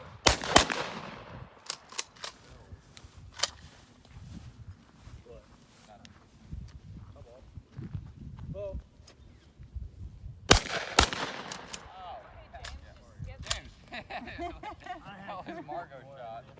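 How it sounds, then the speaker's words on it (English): Gunshots ring out at snowy outdoor target shooting: sharp, scattered cracks, with a dense cluster near the start and another around the middle. Quieter footsteps and people talking fill the gaps between shots. "That was Margot's shot"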